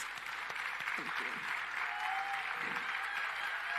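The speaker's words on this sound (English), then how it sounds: "A round of applause for her, please." Audience claps after a keynote talk, a steady wash of applause from a sizeable room, with a brief voice or two faintly underneath.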